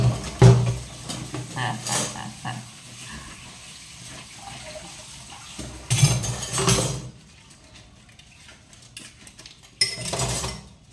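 Dishwashing at a home kitchen sink: clinking plates and cutlery with bursts of running tap water, intermittent clatters and splashes at close range, quieter gaps between.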